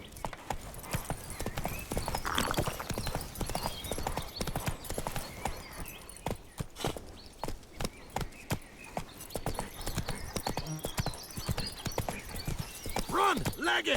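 In The Witcher 3, the horse Roach gallops with rapid, continuous clip-clop hoofbeats, a neigh breaking through partway, while a voice speaks over the action.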